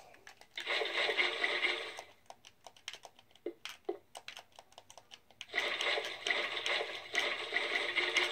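Water placed in Minecraft, two bursts of rushing, splashing water separated by a stretch of rapid keyboard clicks and short taps, close and moderately loud.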